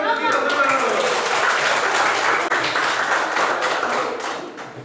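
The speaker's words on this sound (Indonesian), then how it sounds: "Tepuk tangan untuk kita semua." A group of schoolchildren claps together in a classroom for about five seconds, a dense, fairly loud applause that fades slightly toward the end, with voices mixed in.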